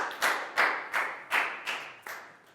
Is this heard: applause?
yes